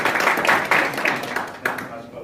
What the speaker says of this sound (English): let's give Colin another round of applause